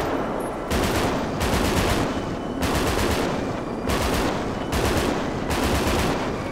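Loud automatic gunfire from a GTA 5 zombie survival game crackles in about six dense bursts separated by short gaps, with no talk.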